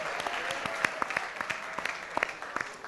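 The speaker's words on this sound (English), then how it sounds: "Let's get a round of applause for John Snyder, everybody." Audience applause at a music industry forum, a steady wash of clapping with sharper individual claps standing out, sustained at moderate level through the whole stretch.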